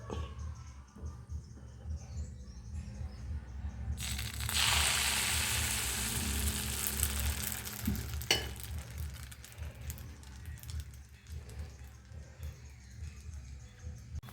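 Appam batter poured into a hot palappam pan and swirled, a burst of loud close sizzling that rises suddenly, holds for a few seconds, then fades into a softer hiss with faint scraping.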